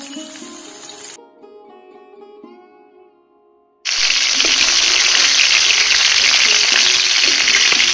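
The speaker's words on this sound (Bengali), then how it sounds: "তেলটা গরম হয়ে গেছে, এখন মাছটা আমি দিয়ে দিব।" Chitol fish dropped into hot oil, bursting into a loud, dense, steady sizzle after a few seconds of quieter background with a faint tonal sound.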